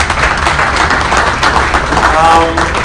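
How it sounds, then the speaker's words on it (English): A crowd applauding steadily at a debate, dense clapping filling the space at an even level throughout. "a round of applause as he comes"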